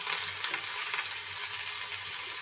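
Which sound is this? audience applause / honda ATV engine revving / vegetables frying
vegetables frying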